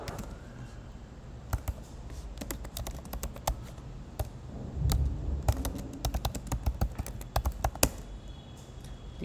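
Fingers type Python code on a computer keyboard in a steady run of crisp, irregular key clicks, close and clear, with a brief busier flurry midway and no talking.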